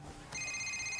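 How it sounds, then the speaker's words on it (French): A telephone bell starts ringing partway through, a loud, steady electronic ring with sustained high tones over a low background hum, with no one speaking. "Laissez sonner."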